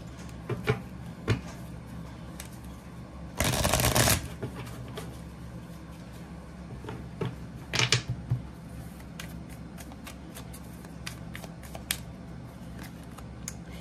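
Tarot cards being shuffled in a few quick riffling bursts, with light handling clicks and taps in between, close up and without talk.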